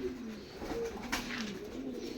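Pigeons cooing in a loft, soft low rolling coos repeating in a gentle rhythm, close and steady against a faint background hiss.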